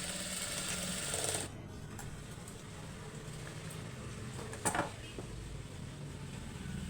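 A sewing machine runs steadily, stitching a blouse, its rapid mechanical whir close and continuous. It stops briefly, then starts up again with a small clunk partway through.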